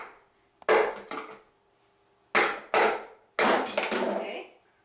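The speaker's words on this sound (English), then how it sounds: "We're going to hit one of those screws with the top of this shaft." A metal mixer shaft is struck against the screws on the gear nut of a Bosch Universal Plus mixer, giving several sharp, loud, close cracks in clusters, some ringing briefly, with no talking.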